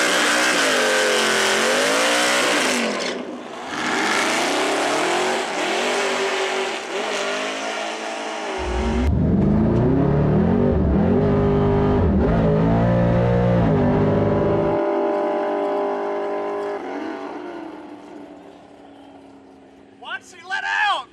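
Nitrous-fed car launching at a drag race, a loud roaring engine with revving and a hard acceleration surge, heavy talk and cheering over much of it.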